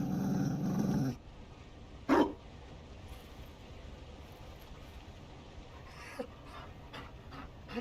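Mabari war dog in the fantasy game Dragon Age: Inquisition, panting and growling softly amid quiet ambient game sound, with a brief louder burst early on and no talk.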